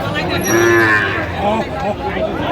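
A Sahiwal bull at a cattle market gives one loud, close, sustained moo lasting the whole moment, deep and full, with no talking over it.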